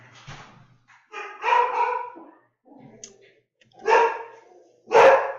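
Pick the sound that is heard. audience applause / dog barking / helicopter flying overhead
dog barking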